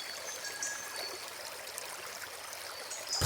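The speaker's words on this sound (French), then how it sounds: "Près de ce petit ruisseau nourricier" A small stream flows in quiet, continuous trickling and babbling, soft and fairly close, with no voices.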